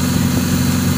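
A car engine modified to run on hydrogen holds a steady, loud, close mechanical drone with a low, even throb for a moment.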